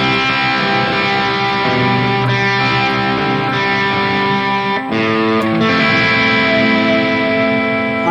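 An electric guitar played through a Valeton GP-200 modeler set to an unboosted JCM 800-style amp tone, loud sustained chords ringing with reverb and light crunch, no talking.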